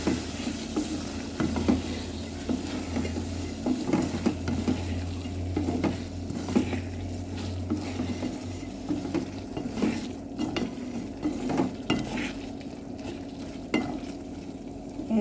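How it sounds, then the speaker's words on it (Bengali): Tengra fish cooks in a pan with tomato, sizzling and frying steadily while a utensil stirs, scraping and clinking against the pan at irregular intervals; no one speaks. "এইভাবে কিছুক্ষণ নেড়ে ছেড়ে কিছুক্ষণ কষিয়ে নেব ভালোভাবে"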